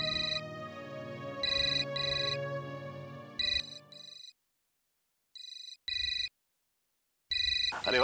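A mobile phone ringtone signals an incoming call, a bright electronic melody repeating in short bursts with gaps, clear and near, cutting off before a brief final burst.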